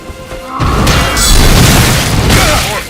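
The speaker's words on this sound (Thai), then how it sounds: "มันจะมีจอมเวทยิง นั่นแหละครับ ยิงเวทมาใส่เราเรื่อยๆ" In the Elden Ring video game, a sorcerer's magic spell strikes with a loud, close boom that swells into a rumbling blast and lingers under layered game effects.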